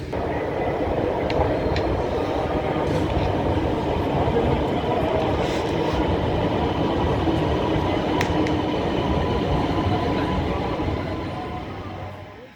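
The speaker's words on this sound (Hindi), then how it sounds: "आज मैं सफ़र करूँगा ऑरेंज मेट्रो ट्रेन पे" An Orange Line metro train in Lahore runs at speed, a loud continuous rumble of wheels on track with faint rhythmic clatter and occasional high squeals, heard from inside and fading slightly at the end.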